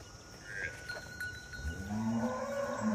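A low, drawn-out water buffalo lowing rises midway and swells toward the end, heard over steady background noise outdoors.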